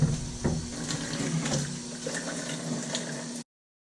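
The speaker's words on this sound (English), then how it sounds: "I'm just going to rinse out the actual canister here." Running water pours and splashes into a Fluval 406 filter canister as it is rinsed out, a steady close gush with small knocks that stops abruptly.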